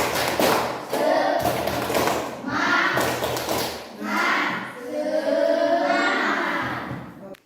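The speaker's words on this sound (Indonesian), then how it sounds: "Coba tepuk semangat dulu. Tepuk semangat." A class of students claps out the rhythmic 'tepuk semangat' chant, bursts of loud unison claps and thumps alternating with children's voices chanting in rhythm, close and lively in a classroom.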